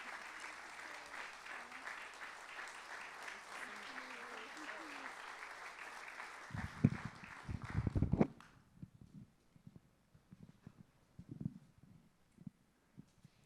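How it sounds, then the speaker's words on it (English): Audience applause for a lecture by Lyla June fills a hall as steady, moderately loud clapping for several seconds, then breaks into a few scattered claps and knocks before fading out. "And a round of applause for Lyla June."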